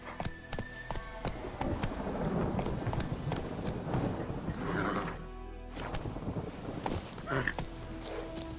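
Roach, the horse in The Witcher 3, gallops with rapid, even clip-clop hoofbeats running up close, while someone talks over the sound.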